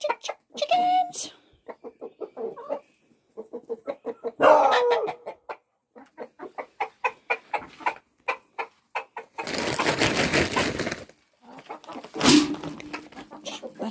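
Chickens on a small farm cluck in quick repeated bursts of short notes, with a louder flurry of noise partway through and a person talking among them.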